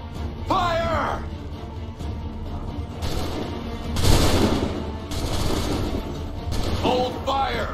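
Musket volley in the Assassin's Creed III Lexington and Concord sequence, a loud burst of overlapping gunfire near the middle, with shouted commands before and after.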